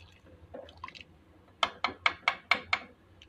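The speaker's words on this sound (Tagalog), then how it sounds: "Haluin ko na siya ngayon kasi pag naloto siya, hindi siya magandang haluin kasi masisira yung fish." A ladle stirs sinigang na isda, Filipino sour fish soup, in a pot, first soft sloshing and then six quick wet knocks and splashes in an even rhythm, close and fairly quiet.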